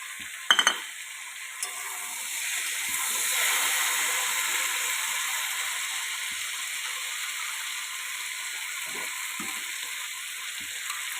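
A pan sizzles and hisses steadily as ground spice paste fries with vegetables, with occasional stirring clinks near the start; no voices.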